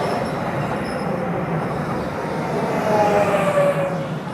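A DART train rolls along the rail at Arapaho Center station, a steady rumbling pass with faint wheel squeal rising near the end, heard from close by outdoors without talk.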